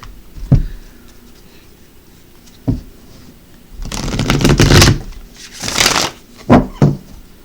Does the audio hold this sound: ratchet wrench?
no